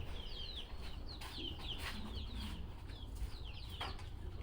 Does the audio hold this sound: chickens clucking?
yes